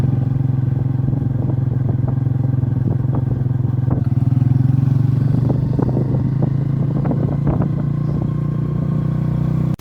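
A scooter engine drones steadily up close while riding, with occasional rattles and clatter over the constant motor hum.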